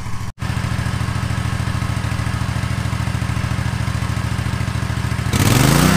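Lawn mower engine running steadily and loud close by in an overgrown backyard full of weeds, with a short dropout near the start and a rougher surge at the end.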